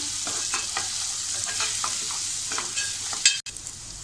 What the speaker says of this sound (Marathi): मी हा एक बटाटा घेतला आहे. थोडं परतून घेऊया त्याला.